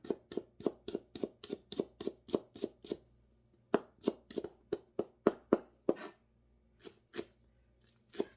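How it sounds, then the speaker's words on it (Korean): Green onions being finely chopped with a knife on a cutting board, giving crisp, rapid, evenly spaced taps in quick runs with short pauses between them, close and clear with no talking. "쪽파는 잘게 썰어줍니다."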